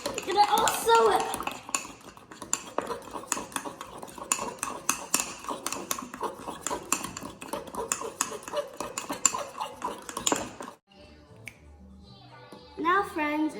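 A utensil mixes chocolate microwave cupcake batter in a mug or bowl with quick, rapid scraping and clinking strokes for about ten seconds, then stops before a voice speaks at the end.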